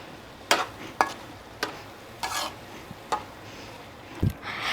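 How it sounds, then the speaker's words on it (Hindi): Rice cooked with potatoes for a savoury pulao is stirred in a pot, giving sharp scraping and knocking strokes at irregular intervals, each brief and fairly close, separated by quiet gaps. "अब हम इसे इस तरीके से पूरा हिला लेंगे"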